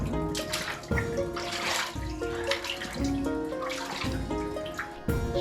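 Water trickling and splashing from a natural spring on a hillside in the wild Jura backpacking terrain, a close, continuous gurgling flow with irregular bursts and drips.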